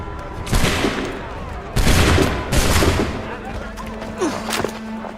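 A volley of muskets fires in Assassin's Creed III, several loud crackling bursts arriving in quick clusters, with scattered shots trailing off afterward.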